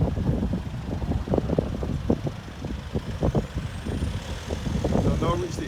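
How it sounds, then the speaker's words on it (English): Backed-up traffic outside Grantley Adams International Airport in Barbados, a steady rumble of idling trucks and cars with passing engine swells, close by, while a voice talks over it. "there's traffic back up at this airport"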